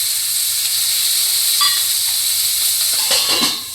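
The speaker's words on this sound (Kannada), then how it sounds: "ಜೀರಿಗೆ ಹಾಕಿದ ತಕ್ಷಣ ಕಾಳು ಹಾಕೊಳ್ತೀನಿ ಅಲಸಂದಿ ಕಾಳು ಹಾಕ್ತೀನಿ" Cumin and black-eyed peas sizzle in hot oil with a steady, close hiss, broken near the end by a few brief stirring scrapes.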